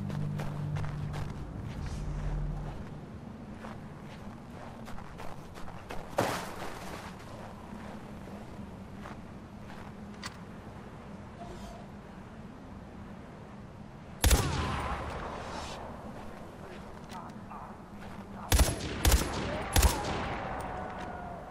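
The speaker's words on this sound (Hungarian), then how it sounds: "Lehet hiba volt lövöldözni?" Gunfire in the video game Far Cry 4: sparse, sharp shots ring out, with a loud blast early, a heavy report midway and a quick cluster of three shots near the end, separated by quieter stretches of footsteps and ambience.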